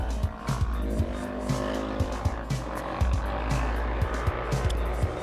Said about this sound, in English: I can hear those cars pulling up.